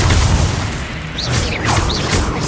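Spell blasts from the video game Hogwarts Legacy, a run of loud, deep booming bursts with whooshing swells layered over a rumbling low end, repeating without pause.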